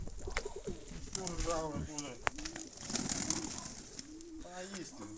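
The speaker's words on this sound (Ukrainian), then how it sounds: "Ну, красива голубка." Soft rolling coos from pigeons close by, repeating through the clip while people talk over them.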